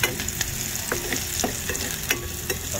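Garlic frying and being stirred in a pan, with a steady close sizzle broken by sharp scraping strokes of a utensil every half second or so.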